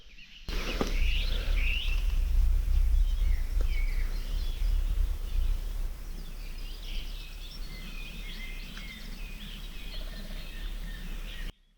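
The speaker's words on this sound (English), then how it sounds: "It's amazing, just birds, a little bit of streams running, water running." Birds chirp and sing faintly at a distance over a steady low rush of a running stream in mid Wales, with no voices.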